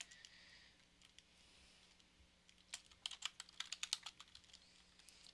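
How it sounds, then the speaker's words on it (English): Keys clatter on a computer keyboard during a Minecraft session, starting faint and then breaking into a quick burst of loud, close clicking strokes before trailing off. "Oh, I could just be typing it up every time."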